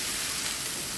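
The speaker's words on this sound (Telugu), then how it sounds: "ఉల్లిపాయలు వేసి దోరగా ఫ్రై అయ్యే వరకు సిమ్లో పెట్టి ఫ్రై చేయాలండి" Chopped onions frying in a pan over low heat give off a steady, even sizzle, close and continuous with no talking.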